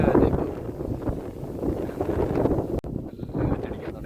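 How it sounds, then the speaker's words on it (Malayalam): Strong wind blows outdoors in Kannur as a light drizzle begins, roaring and buffeting the microphone in gusts, with a brief dropout before the gusting resumes. "നല്ല കാറ്റ് വരുന്നുണ്ട് കേട്ടോ, നല്ല കാറ്റ്."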